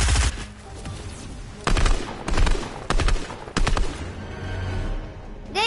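Gunfire from shooting at a boss in a video game adventure map: loud clusters of rapid shots in several separate bursts, with short gaps between them.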